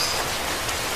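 Heavy rain falling across the sertão of Paraíba in northeastern Brazil, a steady dense broadband hiss with no pauses, loud and even throughout the short stretch, with no voices over it.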